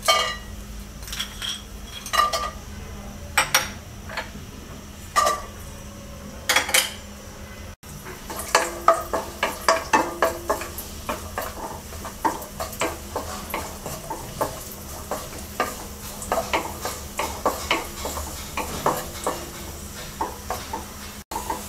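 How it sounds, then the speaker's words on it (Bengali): Cashews and raisins frying in a couple of tablespoons of hot oil in a wok, with repeated metallic scrapes and clinks of a spatula stirring against the pan over a faint, steady sizzle, close up and without talk. "এবার আমরা 10-12টা কাজু বাদাম আর 1 টেবিল চামচ কিশমিশ ভেজে নেব।"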